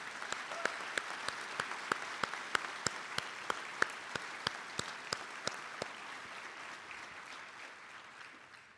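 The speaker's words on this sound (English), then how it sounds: "Please join me in giving all our city employees a richly deserved round of applause." An audience at a city mayor's State of the City address applauds, a steady wash of clapping with regular loud claps standing out, fading slightly toward the end.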